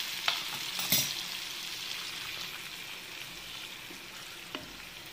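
Pulinji, a tamarind and ginger curry, stirred in a pan: a faint, steady bubbling sizzle with a few soft spoon knocks, quiet and close, no speech.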